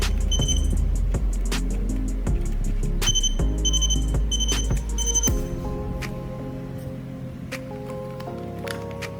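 A repeating electronic alarm clock beeping loudly in a steady rhythm, powered by a battery, over a dense, cluttered background of tones and noise.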